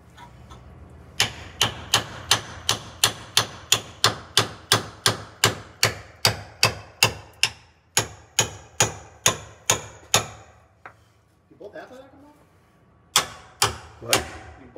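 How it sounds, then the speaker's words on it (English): A chisel is hammered into a wobbly tag axle joint on an MCI 96A3 bus with a long, steady run of sharp metallic blows, then a short pause and a few more strikes. "I'm gonna get a chisel in between there and see if we can."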